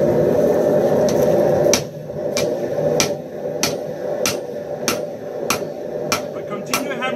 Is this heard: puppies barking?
no